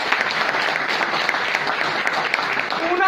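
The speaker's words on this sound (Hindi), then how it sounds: "जोरदार सिंह साहब के लिए ताली।" An audience claps steadily throughout, a dense even patter of many hands at a Hindi-language gathering, with a faint voice at the very end.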